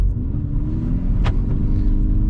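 A front-wheel-drive VW GTI on studded snow tires launches from a stop, giving a steady, loud low engine rumble with a faint rising tone from inside the car.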